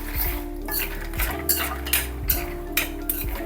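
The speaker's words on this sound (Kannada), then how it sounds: "ಎಣ್ಣೆ ಕಾದಿದೆ, ಇವಾಗ ಕಡಲೆಕಾಯಿ ಬೀಜನ ಫಸ್ಟ್ ಮೊದಲು ಹುರ್ಕೊಳ್ಳೋಣ" Peanuts roast in hot oil in a metal pan, stirred with a spoon that scrapes and clinks against the pan at a steady rhythm over a faint sizzle.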